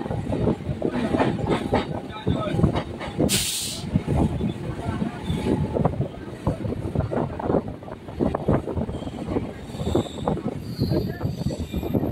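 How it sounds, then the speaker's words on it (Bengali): A local train on the Howrah–Panskura line pulls out of Tikiapara station, with a steady rumble and rhythmic wheel clatter heard from inside the carriage, a brief hiss partway through and faint voices underneath. "আমাদের ট্রেন এখন টিকিয়াপাড়া স্টেশন ছেড়ে বেরিয়ে যাচ্ছে।"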